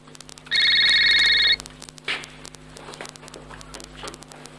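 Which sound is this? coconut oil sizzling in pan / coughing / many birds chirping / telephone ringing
telephone ringing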